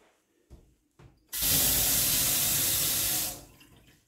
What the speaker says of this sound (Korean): 수압도 좋고 물도 아주 잘 나오고 있습니다